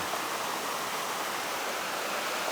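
Steady, full roar of the Baş Daşağıl waterfall, a dense continuous rush of falling water that stays loud and even throughout, with no voices over it.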